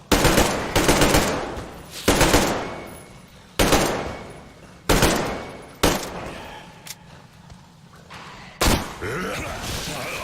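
Bursts of rifle fire from the shooter Metro Exodus, several loud separate volleys with sharp onsets that ring out and decay between shots, heard alone with no talk.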